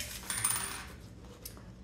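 Keys dropped into a rain bag, a single close metallic jingle and clatter that quickly settles, followed by a faint rustle.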